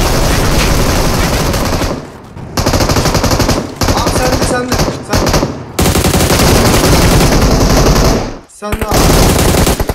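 Loud, close bursts of automatic gunfire in the mobile battle royale game PUBG Mobile, long rapid rattling volleys broken by a few brief pauses, with faint voices underneath.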